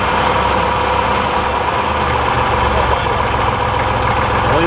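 A car engine idles steadily up close, a constant rumbling drone with a light mechanical rattle running through it.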